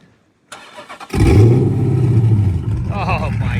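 A Dodge Charger engine cranks briefly and catches, then settles into a loud, steady idle close by, with a person talking over the running engine.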